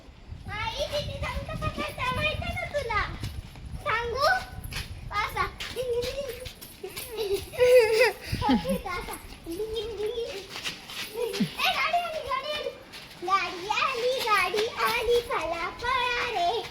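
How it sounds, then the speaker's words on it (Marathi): Children playing outdoors at night in a village, several kids' voices chattering and calling out close by, with adult talk mixed in. "मुलं कशी रात्रीचे खेळतायत"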